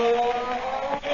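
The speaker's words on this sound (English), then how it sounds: "That was the sound of the Blue Beetle's magic ray." The magic ray effect in a Blue Beetle radio drama gives a steady, loud electronic hum with sustained tones that holds for about a second, with no voices over it.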